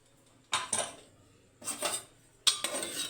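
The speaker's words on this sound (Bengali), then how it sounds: "প্রেসার কুকারের ঢাকাটা এবার খুলে দেখি" A metal pressure cooker lid being lifted off and handled in a home kitchen, heard as three sharp metallic clanks and scrapes, close and fairly quiet, with no talking.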